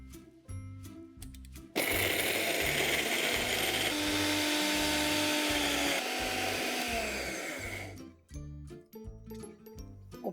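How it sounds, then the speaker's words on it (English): A mixer grinder whirs loudly for about six seconds, grinding grated coconut for a South Indian drumstick curry, a harsh high motor whine between quieter kitchen clatter before and after. "Let's grind this together."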